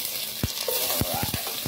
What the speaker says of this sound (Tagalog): Igisa muna tayo.